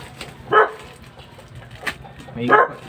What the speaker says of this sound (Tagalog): May ingay pa guys yung ating aso.